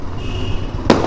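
Diwali fireworks in Patna make a steady, dense crackle and rumble, and one sharp, loud bang bursts out near the end.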